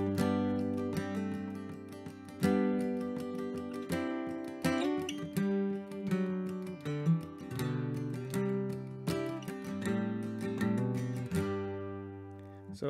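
Acoustic guitar in DADGAD tuning strumming the chords for part two of Miss McLeod's Reel, with a steady rhythm of ringing chords played alone and close.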